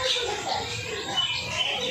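Faint, scattered chirping and cooing from a pair of domestic Malbai pigeons, close and quiet, with brief calls breaking through a low ambient hum.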